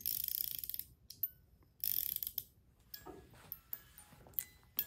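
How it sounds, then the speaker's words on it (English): A music box spring is wound, giving quick bursts of fine ratcheting clicks, then pauses and sparse single ticks and light mechanical clacks, all close and fairly faint. "So that's the sound of winding up the spring."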